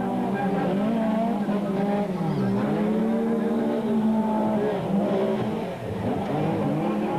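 Beetle 4x4 and Mazda race cars roaring past at speed in a 1998 Super Series race, loud continuous engine drone with rising and falling revs and tire squeal, no talk.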